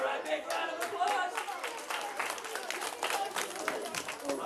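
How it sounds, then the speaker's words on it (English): A live-stream audience breaks into applause, dense steady clapping from a crowd with some chatter mixed in, sustained throughout and moderately loud. "All right, big round of applause."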